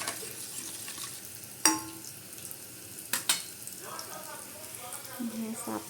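Egg bhurji mixture with chilli, coriander and salt is poured into a hot pan and sizzles quietly. A couple of sharp clinks and a soft stirring scrape sit under the frying.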